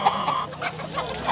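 Rooster clucking close by in a few short, nasal bursts over a quiet background.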